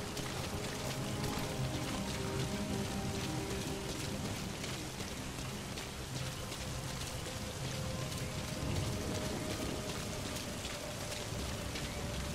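Steady, dense rainfall during a storm in the video game Metal Gear Solid 5: The Phantom Pain on PS4, a continuous loud hiss of rain hitting surfaces that holds for the whole stretch without a break.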